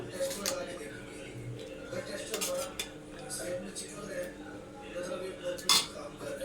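A spoon clinks and scrapes against a metal pot as layers of chicken curry and rice are put in, giving irregular close metallic taps and knocks, with a voice talking under them.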